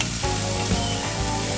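A tomahawk ribeye steak gets a hard sear in a hot pan, a loud, steady, broadband sizzle hissing continuously and close up with no voices over it.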